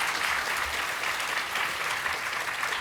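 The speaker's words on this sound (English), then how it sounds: "I want everyone to give a round of applause to Felix and Aaron and Brad" Crowd applause closing a PAX West 2016 convention panel, steady full clapping from a large audience throughout, even and continuous with no break.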